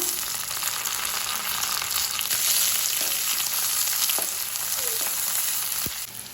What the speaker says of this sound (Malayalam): ഇതിലേക്ക് കുറച്ച് കറിവേപ്പില ഇട്ട് കൊടുക്കാം.